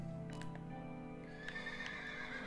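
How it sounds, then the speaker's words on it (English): A saddled horse in the Minecraft video game neighs in a short whinny, heard faintly over a steady droning background tone. "My horse is now fully saddled."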